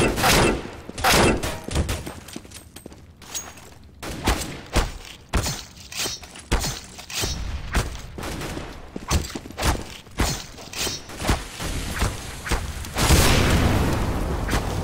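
Grenade and other explosions in CS:GO, with a dense run of sharp gunfire cracks and heavy booms through the stretch and a large blast near the end, loud and close.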